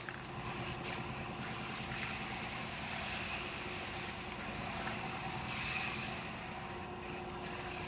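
A faint, continuous spray hiss as guide coat mists onto a primed truck bedside blocked with 320 grit, soft and even throughout with no talking.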